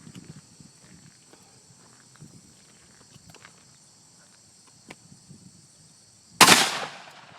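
One loud, close gunshot from a hot .50 caliber magnum handload bursts after several seconds of quiet outdoor ambience with faint footsteps and insects, followed by a short decaying echo.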